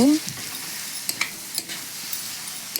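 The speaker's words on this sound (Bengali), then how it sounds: "একটু আমি কিছুক্ষণ নাড়াচাড়া করে নিচ্ছি" Onions stir-fried in a spice paste for a fish-roe dopiyaza, sizzling steadily up close while a spoon makes light, scattered scrapes against the pan, with no voices.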